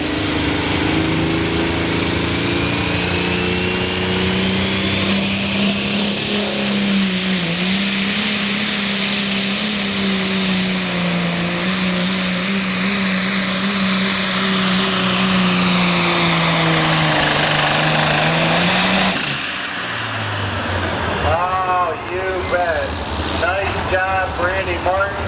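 A modified pulling truck at a truck and tractor pull roars at full throttle, a loud sustained engine howl rising in pitch over many seconds, then cutting off abruptly as an announcer's voice takes over.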